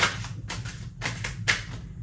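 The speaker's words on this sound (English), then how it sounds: "That was my messy shuffling." Tarot cards being shuffled loosely by hand, a few soft papery riffles and slaps in short bursts over a low steady hum, close and quiet with no talking.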